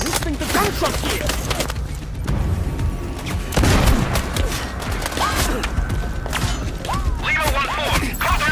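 Sniper Ghost Warrior Contracts 2 gameplay combat: repeated sharp gunshots and mechanical clatter, fairly loud, over a dense background of game ambience and intermittent voice chatter.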